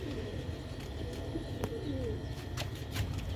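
Old Sialkoti pigeons kept on a stand coo softly and repeatedly over a steady low background, with a few faint chirps mixed in and no talking.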